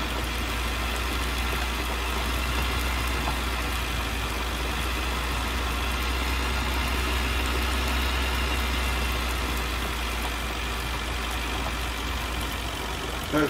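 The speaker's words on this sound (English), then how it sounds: "Clearing the soot out the exhaust to clear the engine out totally." Tractor engine held at steady high revs to blow soot out of the exhaust while ploughing in grass, a continuous loud drone with a deep low rumble and no change in pitch.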